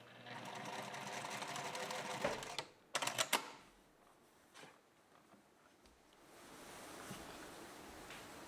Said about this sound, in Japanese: ボックスの端の合い印のところで縫い代分の1センチだけ縫っておきます